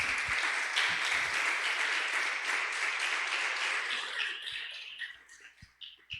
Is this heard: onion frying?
no